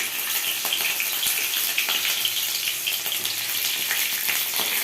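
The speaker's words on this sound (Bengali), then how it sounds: "এই যে পটল, দেখো পটলগুলোকে ছেড়ে দিলাম।" Sliced pointed gourd fries in hot oil in a pan, giving a steady, close crackling sizzle with small pops throughout and no talking.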